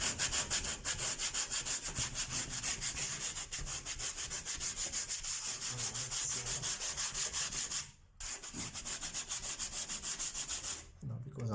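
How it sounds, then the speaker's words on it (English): Sandpaper rubbed back and forth over a patched ceiling repair, a fast, even scratching rhythm held for long stretches close by, with two short pauses before the strokes start again. "it's only these parts here that I need to sand down"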